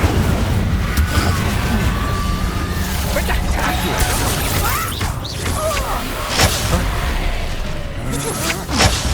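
Incendio fire spells are cast in Hogwarts Legacy amid dense combat noise of booming crashes and bursting pops. The sounds come in quick succession under a steady rumble, with a voice speaking over them.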